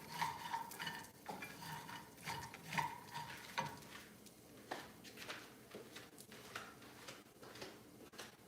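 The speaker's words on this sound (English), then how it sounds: "we're caramelizing our pecans in the butter" Pecans sautéing in butter in a pan, a soft, moderate sizzle broken by repeated scrapes and taps of a utensil stirring them.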